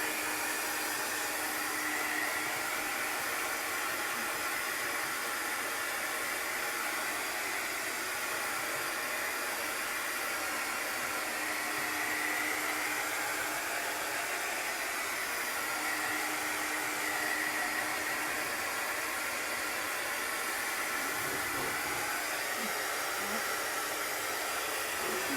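A hair dryer blows steadily and loudly without pause, drying layers of chalk paste on a craft project.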